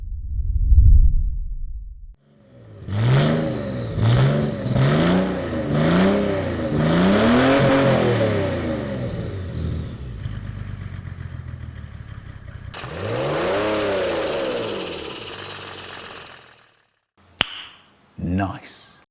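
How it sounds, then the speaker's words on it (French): A Mercedes OM606 turbo diesel with a partly blocked intake revs hard several times in quick succession, each rise ending in a fluttering turbo surge, then one longer rev and a sharp final burst, loud and close. "pour que ça fasse un peu le bruit de turbo, je suis obligé de légèrement boucher la suralimentation pour qu'il y ait de la surale et que ça fasse l'effet surge"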